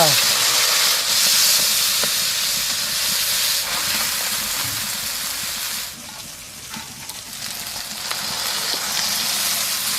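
Mustard oil with cumin, turmeric, mustard and dry chilli paste sizzling in a hot wok, a loud, steady hiss that dips briefly before rising again, with some talk in the background.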